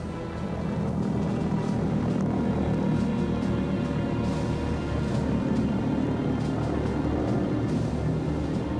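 V1 flying bomb pulse-jet engine droning steadily and loudly throughout, a continuous low rumbling buzz with no voices, as heard over wartime London.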